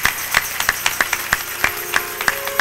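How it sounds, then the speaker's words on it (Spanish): Steady, evenly spaced claps from a church congregation during a Spanish-language sermon, about three per second, crisp and moderately loud over a quiet room. "denle un aplauso para Jesús"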